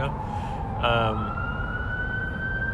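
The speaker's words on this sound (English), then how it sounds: "I'm kind of distracted because all these freaking sirens" Emergency vehicle sirens wail outdoors beyond a rooftop, a steady rising tone with a brief louder burst partway through, heard over background noise and faint voices.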